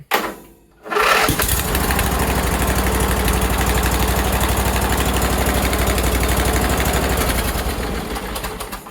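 A V-twin Sears GT18 lawn tractor engine cranks and catches after a brief pause without choke, then settles into a loud, steady idle with a low, even throb for the rest of the clip.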